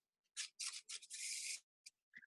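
A deck of playing cards is riffle shuffled, the interlacing cards giving a close, crisp burst of flutter, then a pause and a couple of short taps.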